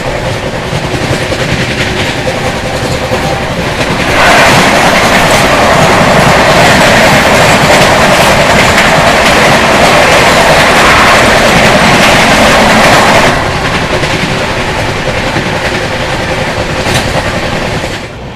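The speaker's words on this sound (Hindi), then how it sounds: "ये देखिए सामने से आ रही है सिलचर सियालदा कंचनजंगा एक्सप्रेस।" Silchar-Sealdah Kanchenjunga Express passenger train rumbling past at close range, a loud steady roll of wagons with clickety-clack wheel beats that swells in the middle as the coaches go by, then eases slightly, with no talk.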